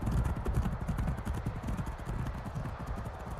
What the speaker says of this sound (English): The horses all top endurance here. No one's lagging too far behind.